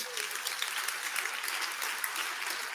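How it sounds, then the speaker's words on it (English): Audience clapping for sponsors at a tech conference, a steady, moderately faint crackle of many hands with slight peaks throughout, heard a little distant. "Let's give all of our pioneer sponsors a huge round of applause."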